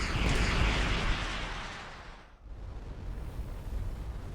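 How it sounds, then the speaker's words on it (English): Missiles launching and detonating in the space game Starcom Unknown Space, a loud rumbling explosion that fades midway and then builds again into a continuing roar. "Would you like to say hello to my missiles?"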